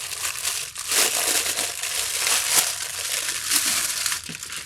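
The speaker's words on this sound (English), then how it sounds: "Sorry for the crinkly plastic." Crinkly plastic packaging around small accessories is handled and squeezed, giving loud, continuous crackling and crumpling close to the microphone, with sharper bursts every second or so.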